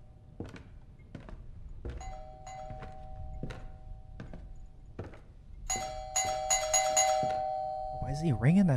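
Someone in a video game rings a doorbell over and over: spaced single thunks and chimes, then a rapid burst of repeated rings toward the end, with a person talking faintly underneath.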